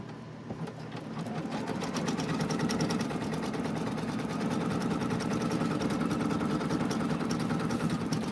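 A computerized embroidery machine stitches out a design of about 3,800 stitches, giving a steady, fast mechanical whirring and needle chatter that runs loud and unbroken throughout, with no talking.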